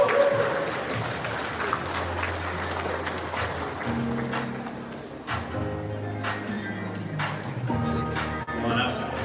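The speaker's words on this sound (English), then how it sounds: "Let's give them a big round of applause" Audience applause as a panel walks onto a conference stage, steady broadband clapping for several seconds with music underneath and a few voices mixed in.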